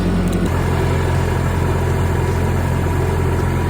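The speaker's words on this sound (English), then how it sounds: "So now I can start the tractor. Tractor fires up" A tractor engine runs at a steady idle, a low continuous rumble close by with no talk over it.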